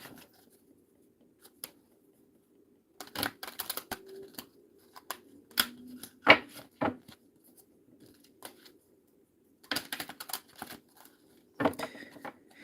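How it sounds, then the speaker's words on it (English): Tarot cards being shuffled and drawn up close: soft papery riffles and slides in a few separate bursts, with quiet pauses in between and no talking. "let's go ahead and pull some more cards for the Aries collective"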